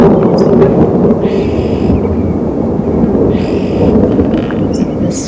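Thunder rolls in a low, heavy rumble through a thunderstorm at Djuma Game Reserve during a safari drive, with a continuous loud roar of wind and rain and brief higher noise bursts passing over.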